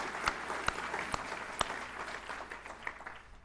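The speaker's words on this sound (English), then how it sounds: "that deserves a round of applause" Audience applause at NASA Langley Research Center's facility opening ceremony, soft and somewhat distant, with a few sharper nearby claps standing out.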